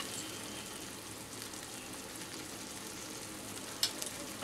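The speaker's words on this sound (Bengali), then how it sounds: "গ্যাসের ফ্লেমটা মিডিয়ামে রেখে আমি 2 থেকে 3 মিনিট একটু কষিয়ে নেব।" A spice paste with pabda fish sautés in a pan over a medium flame, giving a soft, even sizzle with light stirring scrapes and a short clink near the end, no voices.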